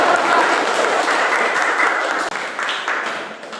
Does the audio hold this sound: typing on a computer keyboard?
no